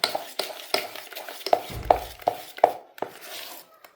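Idli batter with Eno and lemon is whisked by hand in a bowl, giving a quick series of close taps and scrapes against the dish at a brisk, uneven rhythm.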